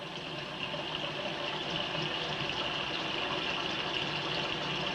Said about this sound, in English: you want to hold it over the sink and let it drain out